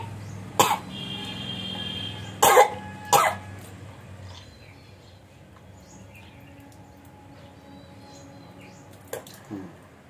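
Three sharp coughs during a yoga cleansing practice, one early and two close together, then a faint cough near the end, over a quiet room hum.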